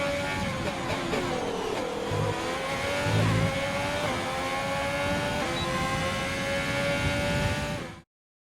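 An F1 car engine in the video game F1 2020 screams at high revs through the final corner, its pitch dipping and climbing with gear changes in a continuous, loud whine that cuts off abruptly at the end.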